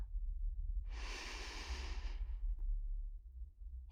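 One slow, calm breath drawn in during a gentle panic-calming roleplay, airy and close to the mic, lasting about a second over a low background rumble, with no talking.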